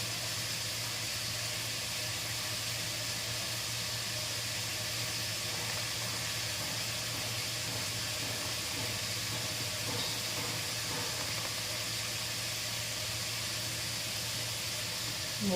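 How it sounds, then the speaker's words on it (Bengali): Hot water runs steadily from a tap while a used mustard-oil bottle is washed, a continuous hissing wash of water close by with faint clinks, alone without talk. "এটাকে গরম জল করে আর ভালো করে ধোবো।"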